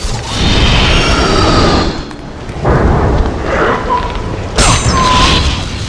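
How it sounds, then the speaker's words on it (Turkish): Enemy fire in God of War bursting like fireworks, heavy booming blasts with crackling, popping sparkle, loud and continuous with fresh bursts around two seconds in and again near the end. "O ne lan herif de havai fişek falan atıyor oradan."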